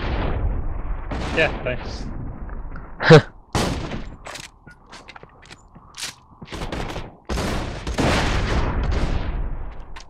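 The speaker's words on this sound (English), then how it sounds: "You're being shot at." Gunfire from the video game Borderlands 2, a few sharp loud bursts breaking through ongoing talk and game noise, with one especially strong shot near the middle.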